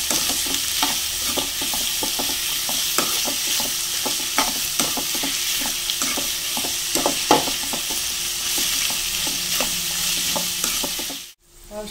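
Beef frying in a pan while being stirred, a steady sizzle with repeated scraping stir strokes throughout, close and continuous.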